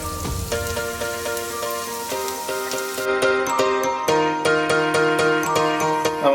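Sliced onions hit hot oil to fry into crisp birista garnish for beef nihari, giving a steady rain-like sizzle under sustained tonal music.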